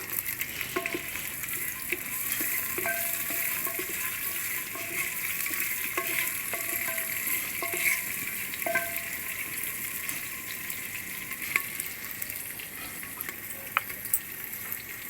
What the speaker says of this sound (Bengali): পেঁয়াজ কুচি দিয়ে দিব তেলের মধ্যে